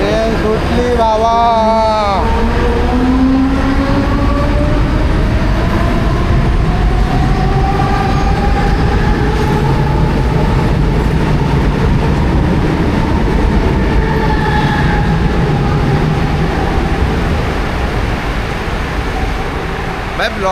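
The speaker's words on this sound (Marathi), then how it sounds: "ट्रेन सुटली बाबा." A Mumbai local train pulls out of the station with a loud, continuous rumble of wheels and cars, gliding squeals and tones rising and falling over the roar, and a voice speaking nearby.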